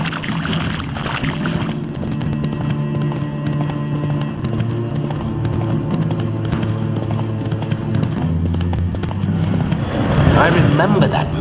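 Horse hooves clip-clop steadily in the open-world fantasy game The Witcher 3: Wild Hunt, a continuous mid-level trot beneath ambient game music and background speech.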